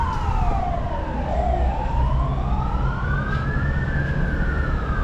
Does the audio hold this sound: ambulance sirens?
yes